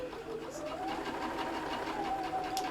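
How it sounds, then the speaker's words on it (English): Sewing machine stitching a quarter-inch seam around a curved fabric Easter egg pouch, a steady continuous whirring hum that holds throughout, close and fairly quiet. "I'm going to stitch all the way around."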